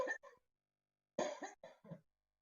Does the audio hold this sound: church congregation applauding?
no